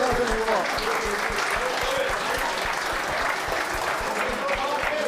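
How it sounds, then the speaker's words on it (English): Live audience at an end-of-season football fan party applauds three guests, a steady, dense wash of clapping held throughout with some crowd noise underneath. "another round of applause for the three guests"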